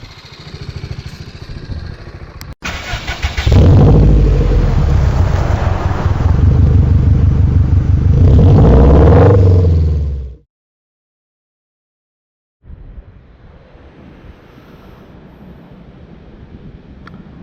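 A 2018 BMW G310R single-cylinder motorcycle rides past with loud engine roar and wind buffeting, rising and falling as it accelerates, then cuts to silence before quieter wind noise returns.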